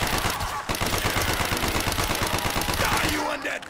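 Rapid automatic gunfire from a weapon in the Call of Duty: Black Ops zombies map Kino Der Toten, a loud continuous stream of shots lasting about three seconds before easing off.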